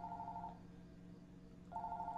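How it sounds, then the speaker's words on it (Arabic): A telephone rings in two electronic bursts, one at the start and one near the end with a quiet gap between. The ring is fairly close and clear over a low background hum, with no talking. "التلفون يرن."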